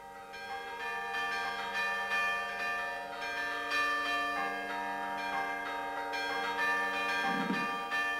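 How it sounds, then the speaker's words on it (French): Carillon church bells in a Valais village ring out in a steady sequence of sustained, overlapping metallic tones, moderately loud and resonant, with no voices. "Autrefois, les carillons se répandaient de village en village dans les vallées."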